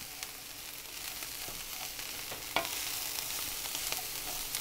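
Brussels sprouts stir fry being mixed in a hot pan, a constant soft sizzle with scattered scraping and clinking strokes from the stirring, one sharper clatter midway, no voices.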